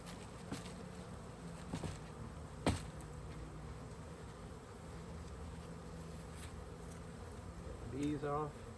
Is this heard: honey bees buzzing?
yes